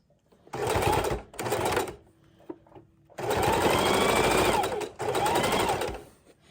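A sewing machine straight-stitches trim onto a junk journal cover, running in four bursts, two short, then a long run and a final stretch, with quiet pauses between.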